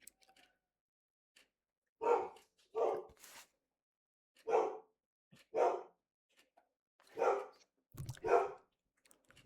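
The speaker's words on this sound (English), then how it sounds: "Got a dog barking in the background." A dog barks in the distance, single and paired barks in irregular bursts, faint and set apart by quiet gaps, heard indoors with no talking.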